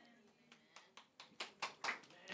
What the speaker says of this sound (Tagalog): Salamat sa dalawang pumalakpak.